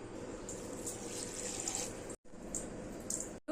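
Basmati rice being washed under running water: a soft, steady rushing stream with faint clinks, quiet and close, broken by two brief pauses.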